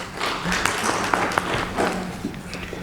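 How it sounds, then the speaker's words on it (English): Conference audience applauding a speaker, steady dense clapping sustained throughout at moderate level, with a few sharper claps standing out. "another round of applause for Mr. Fave Samuel Ishmael"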